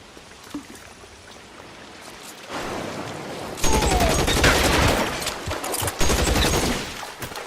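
Rapid bursts of gunfire in the L.A. Noire Remastered shootout, growing loud and dense midway and continuing in sustained volleys to the end.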